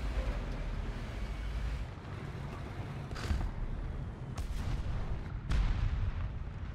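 Enemy shells fire at a player's 38cm Sturmmörser Tiger tank in War Thunder, heavy booming blasts landing a few times over a constant rumbling, wind-like background.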